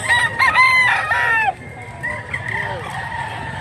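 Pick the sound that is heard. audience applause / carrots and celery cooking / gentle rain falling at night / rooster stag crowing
rooster stag crowing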